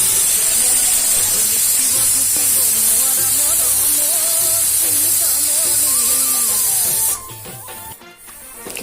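A pressure cooker cooking peas lets off a loud, continuous hiss of escaping steam for about seven seconds, then cuts off abruptly and leaves quieter kitchen sounds.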